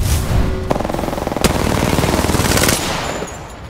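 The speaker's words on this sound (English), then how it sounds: "Shots fired." Rapid automatic gunfire from Apex Legends, a dense burst of rattling shots with a few sharper cracks, loud and close and continuing throughout.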